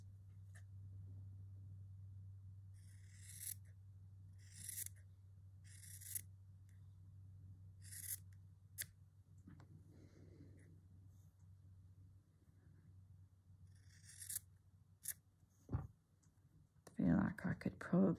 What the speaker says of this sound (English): I need a bigger scissors.